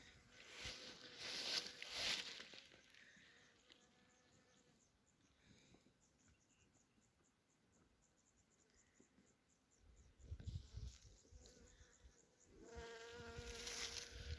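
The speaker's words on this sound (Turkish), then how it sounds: "Bundan dolayı arı çok güzel çalışıyor arkadaşlar." Soft, continuous buzzing of many honey bees foraging on wild clover and other wildflowers outdoors, faint and steady, with occasional gusts of wind brushing over it.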